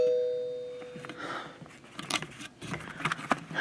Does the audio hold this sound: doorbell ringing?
yes